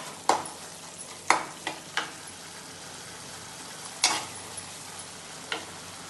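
Bansi rava being stirred and fried in a pan for upma, with a spoon scraping and knocking against the pan in irregular, fairly loud strokes over a faint, steady sizzle, and no voices.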